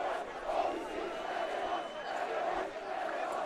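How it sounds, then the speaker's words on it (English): School rugby supporters at a Jeppe versus King Edward VII first XV match roar their traditional black and white cheer and chant, a dense, loud crowd chorus with rhythmic rising shouts. "The traditional black and white cheer and chant is coming on."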